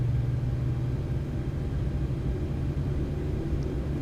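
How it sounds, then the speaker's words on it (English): Engine 1 of a PMDG 737 spools up in a flight simulator, a steady, dense low rumble with a broad airy roar that holds at a constant level throughout, heard alone without talk. "And there comes engine 1, you can hear it running."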